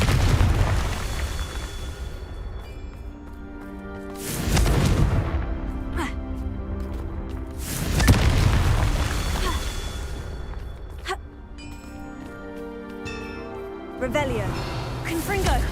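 Booming explosive blasts from the Confringo spell in Hogwarts Legacy, several heavy detonations spaced a few seconds apart with lingering rumble, amid game music and combat noise.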